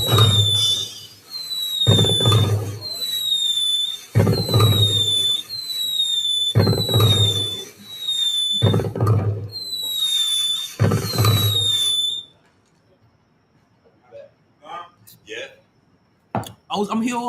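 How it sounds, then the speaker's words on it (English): Repeated loud fireworks-style booms, each with a whistling squeal, fire about every two seconds before stopping abruptly, and scattered faint sounds follow in near silence. "Like all I hear is fireworks."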